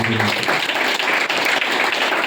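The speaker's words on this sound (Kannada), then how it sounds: "ಹೃದಯಪೂರ್ವಕವಾದಂಥ ಸ್ವಾಗತವನ್ನು ಚಪ್ಪಾಳೆಯ ಮೂಲಕ ಕೋರಬೇಕಾಗಿ" An audience at a Karnataka community gathering applauds to welcome guests, with steady, dense clapping filling the whole short stretch at close range.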